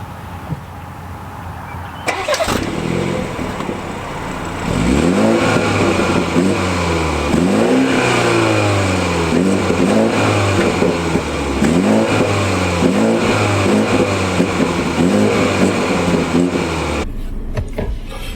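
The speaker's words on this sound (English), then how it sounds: "let's go ahead and hop on the road and see how this thing drives" A 2021 BMW 530i xDrive pulls onto the road, its engine climbing through a series of rising, revving gear pulls with a steady cabin hum and road rumble, loud and close from inside the car, no talking.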